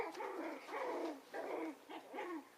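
Rue, an adult dog, makes a string of short whining, grumbling yips and barks at the young dog Winty, four or five rising-falling vocal bursts close and fairly quiet.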